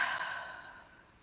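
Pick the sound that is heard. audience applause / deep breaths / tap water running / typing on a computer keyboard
deep breaths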